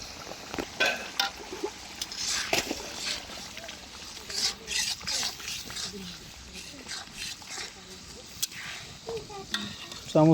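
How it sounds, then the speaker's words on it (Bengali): Sour yogurt being stirred into 1.5 kg of raw meat, half breast and half leg, with repeated soft scraping and wet stirring strokes throughout, a faint sizzle underneath, and a person speaking now and then. "এখন দিয়ে দেব টক দই"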